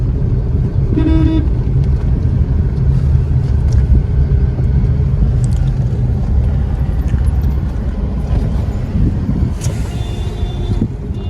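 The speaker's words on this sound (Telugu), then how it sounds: "ఫ్రెండ్స్ ట్రాఫిక్ ఎక్కువైంది ఫ్రెండ్స్." Loud, close traffic rumble with engines droning steadily, while a few short horn toots cut through now and then.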